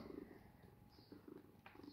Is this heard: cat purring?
yes